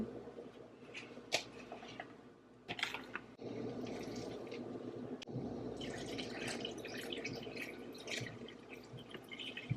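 Water is poured into a clay pot over Chinese beauty soup ingredients, giving a steady splashing, bubbling fill with a few drips and squishy shifts, moderately loud and alone.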